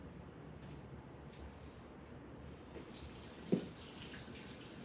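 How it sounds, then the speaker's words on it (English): Hands are washed under a running kitchen tap, giving a steady close hiss of flowing water with a small knock partway through and no speech. "Washing my hands hygienically in the soap."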